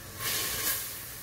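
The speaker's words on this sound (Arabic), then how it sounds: "ما شوفو البصل تاعنا دخلت له التقلية" Onions sizzling as they fry in a pan, a soft steady hiss that swells briefly and then settles, close by with no talking.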